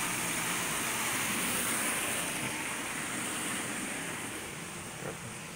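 Steady roar of ocean surf and wind outside a South Carolina hotel, a dense continuous wash of breaking waves with gusty microphone buffeting, the sea a short way off between buildings.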